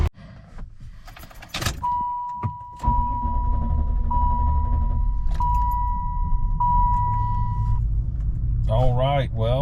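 A 1996 Cadillac Fleetwood with a starting problem: keys jangle, a steady warning chime repeats, then the engine cranks and catches into a low rumbling run while the chime continues, with a brief voice near the end.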